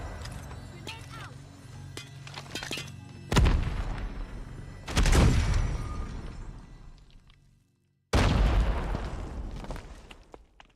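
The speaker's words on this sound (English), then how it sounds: "Grenade out!" Grenade blasts in Call of Duty Mobile: several sharp, loud explosive bursts hit in sequence, each trailing off into rumbling decay, amid dense gunfire and game noise with voices talking over parts of it.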